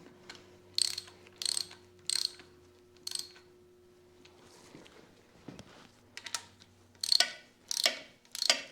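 A ratchet tightens bolts on a Farmall Super M engine with a pot-metal part, heard as short bursts of close, crisp clicking with pauses between them and a low hum underneath.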